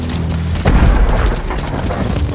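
Fireworks boom in Ghost of Tsushima, a deep muffled explosion rumbling out amid a noisy battle ambience with no voices.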